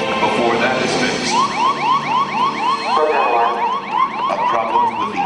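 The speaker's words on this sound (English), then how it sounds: "a problem with the onboard computer. 1202 alarm." Apollo lunar module onboard computer 1202 alarm sounding during a rough descent: loud, rapidly repeating chirping electronic sweeps in a steady warbling rhythm over a dense background.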